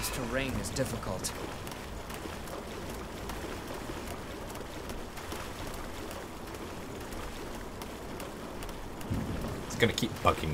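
Rain in the video game Code Vein pours down steadily and evenly for the whole stretch, with a low rumble of thunder and a voice talking over it.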